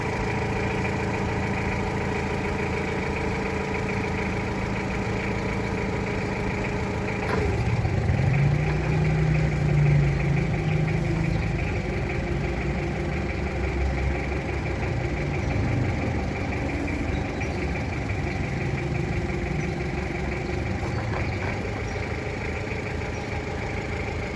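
A Komatsu 3-ton forklift with a 3-metre mast and automatic transmission idles with a steady low engine hum, briefly revving a little louder for a few seconds before settling back to an even idle.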